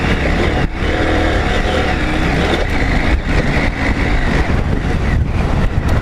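A 2021 KTM 890 Adventure motorcycle engine revs up quickly and shifts through gears on a trail, loud and close with rough wind buffeting and brief dips between revs; no talking.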